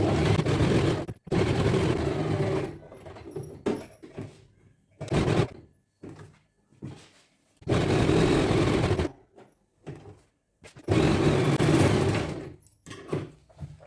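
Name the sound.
sewing machine stitching lehenga jacket fabric onto lining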